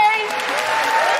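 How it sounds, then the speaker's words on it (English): Audience applause at a Christmas comedy and cabaret show: a short, loud burst of crowd clapping with cheering voices over it. "Big round of applause for Charlie, Thelma,"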